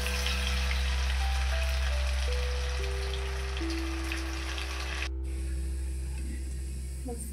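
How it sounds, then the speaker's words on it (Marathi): Coriander vadi (kothimbir vadi) frying on a low flame, giving a steady, dense crackling sizzle that runs unbroken and fairly loud throughout, with a faint steady tone beneath and no voices. "मंद आचेवरच तळायच्यात आपल्याला. मंद आचेवर तळल्यामुळे असे क्रिस्पी छान होतात."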